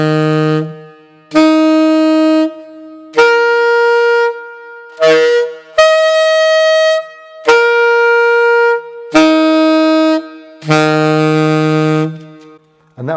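Tenor-range saxophone holding a low C, sounding a sequence of sustained overtones from the harmonic series shaped by the embouchure alone, about eight separate loud tones with short gaps between them, heard alone.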